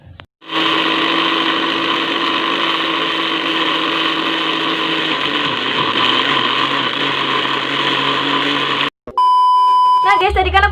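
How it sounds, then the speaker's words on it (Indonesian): An electric blender runs loud and steady, blending spinach with a little water, a continuous whirring drone that shifts slightly in pitch halfway through, then stops abruptly before a short burst of beeping tones. "Kemudian kalian tinggal blender deh."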